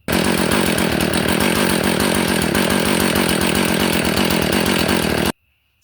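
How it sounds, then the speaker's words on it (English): Husqvarna 450 dirt bike engine running after a carburetor replacement, a loud, dense, continuous buzzing drone close by that cuts off abruptly near the end. "I'm gonna crank this up, let you hear it"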